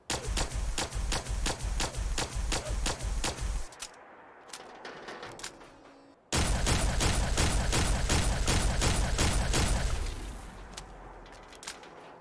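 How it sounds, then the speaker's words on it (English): Modded plasma weapon in Fallout 4 firing semi-automatic: rapid, evenly spaced loud energy shots in two long volleys, separated by a quieter mechanical reload with clicks and a hum, ending in a fading tail. "take the semi-automatic firing sound and the reload sound of the plasma weapons and make them sound a little bit different"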